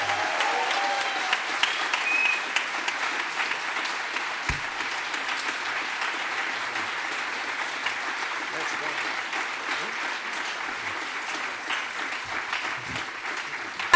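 An audience at a Southbank Centre event applauds as a guest speaker comes on, producing a long, even wash of many hands clapping at a constant level throughout.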